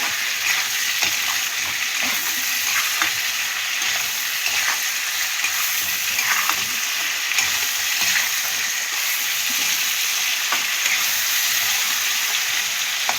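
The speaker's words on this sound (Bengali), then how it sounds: "এবার ভালো করে মিশিয়ে দেব যাতে পেঁয়াজটা তাড়াতাড়ি নরম হয়ে যায়।" Salted onions frying in a pan for a Bengali batashi tangra fish curry, mixed to soften quickly: a steady, loud sizzle like rain with frequent light scraping stirs throughout, close and continuous, no talk.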